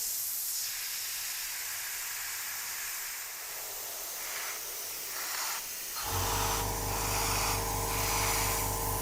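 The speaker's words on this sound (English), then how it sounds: "An airbrush is a great tool, but is also quite problematic at times." Airbrush spraying paint in short dots and lines, a sustained airy hiss that comes in bursts, then a louder steady hiss with a low mechanical hum underneath toward the end.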